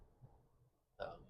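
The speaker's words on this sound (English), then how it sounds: "I have to burp again." A single short, close burp breaks out after a second of quiet low background, abrupt and fairly loud against the near-silence.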